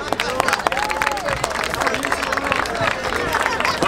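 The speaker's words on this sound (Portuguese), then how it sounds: "palmas pro primeiro round." A rap battle crowd claps and cheers in a dense, busy burst of hand claps mixed with shouting and babble, while a voice carries over the top.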